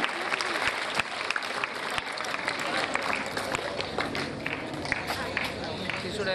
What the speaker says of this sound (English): Why don't you cheer up and just give a big round of applause?